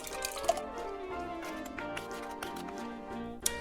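Watermelon syrup poured through a strainer into a bowl, heard as soft close dripping and liquid splashes with a few sharper drops and clicks, quiet and without talk.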